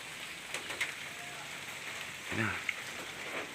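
Rain falls steadily outdoors as a soft, even hiss on surfaces, with light scattered drops. Birds flutter briefly nearby and a voice murmurs faintly in the background.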